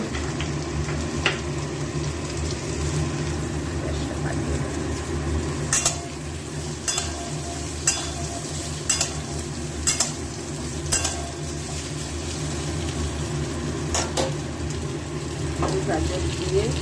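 Cut potatoes and carrots fry in a pan with a continuous sizzle, while a utensil stirs and scrapes against the metal in irregular clicks and knocks, all close and steady.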